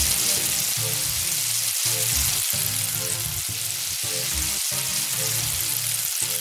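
Thick onion slices frying in hot oil in a pan, giving a loud, steady close-up sizzle with regular dips and bursts roughly every 0.7 seconds, as if stirred or tossed, and no voices.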